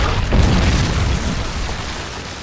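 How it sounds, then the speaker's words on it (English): A Predator missile detonates in Modern Warfare 3, a loud, dense boom with a heavy low rumble that swells early and then lingers as a broad roar. "Predator missile inbound"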